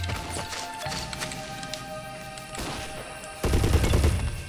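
Soldiers trade gunfire in the war game Men of War. Scattered distant rifle shots and short bursts crackle at moderate volume, with a denser, louder volley near the end.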